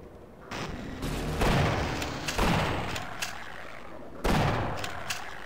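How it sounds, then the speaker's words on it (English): Shotgun blasts in the video game Half-Life: three heavy, booming shots spaced a second or two apart, each with a long decaying tail, loud and close with no talk. "But I'm still using the shotgun."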